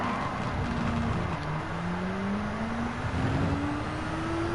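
Race car engine in Gran Turismo 7 revving steadily and climbing in pitch as it accelerates through the gears, loud and continuous with no talk over it.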